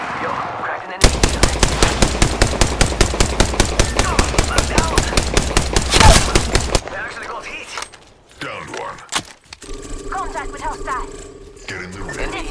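Rapid automatic gunfire in Apex Legends, a long sustained burst of close, loud shots in quick regular rhythm, followed by scattered weapon handling, movement and game effects.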